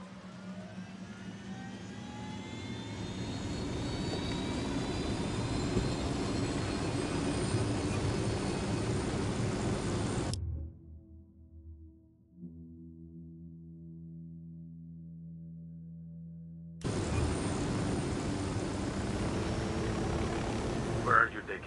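A steady aircraft engine drone in Ghost Recon Wildlands while piloting, loud and continuous, cutting abruptly to a muffled low hum for several seconds before the full roar resumes; no voices during it.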